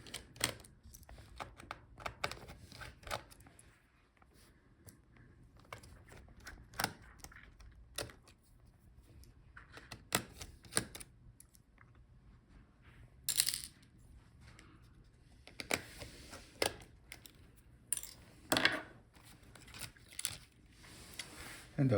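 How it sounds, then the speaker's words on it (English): Small screws being removed from a Dell Inspiron 16 7630 laptop: scattered clicks, metallic ticks and light taps spaced across a quiet stretch, some sharper clatters near the end. "Now let's take out all the remaining screws."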